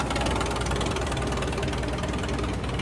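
A 1937 F20 tractor runs at a farm show tractor parade, its engine giving a loud, dense, steady knocking rumble up close with no letup.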